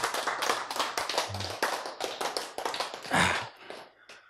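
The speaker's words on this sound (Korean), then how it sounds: "박수 여러분." A church lecture audience claps together, a dense run of hand claps lasting a few seconds and then tapering off, with a brief louder swell near the end.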